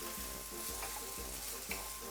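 Colored oil sizzles and fries steadily in a frying pan over medium heat while being stirred, with soft rhythmic scraping strokes about every half second over the continuous crackle, no voices.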